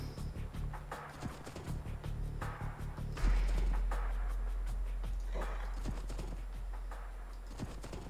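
Horse hooves clip-clop steadily in the video game Age of Empires 2, a rhythmic trotting over a low background hum that runs for the whole stretch.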